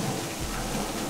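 Rain and a low rumble of thunder fill an indoor mini golf course in Myrtle Beach, South Carolina, a steady wash of falling water with a deep roll, brief and with no talking.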